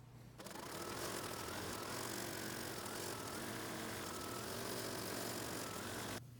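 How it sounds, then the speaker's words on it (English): An embroidery machine stitches the outline of a spider-themed coaster, its motor starting abruptly and running as a steady, fast mechanical whir for several seconds before stopping sharply. "I've placed the hoop back in the machine, and it's going to stitch the stitch around the outside"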